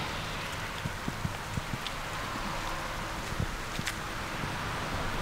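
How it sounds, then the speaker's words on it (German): Rain falls steadily outdoors at a parking area by the Scharnebeck boat lift near Lüneburg, a constant wash of patter with scattered louder drops and some wind, heard alone and close. "Und jetzt regnet es mir ein bisschen zu viel"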